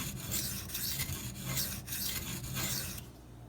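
A Maxamet steel knife rasps across a Venev diamond sharpening stone in a series of short, even back-and-forth passes, close and dry-sounding, with no talking.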